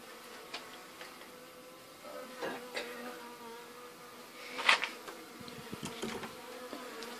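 Honeybees buzzing faintly during queen rearing, a low steady hum with light ticks and handling knocks from the hive equipment nearby.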